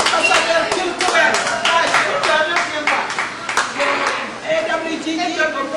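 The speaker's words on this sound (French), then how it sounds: "Applaudissez." Audience at a ceremony applauds steadily, dense clapping from many hands continuing throughout at an even, fairly loud level.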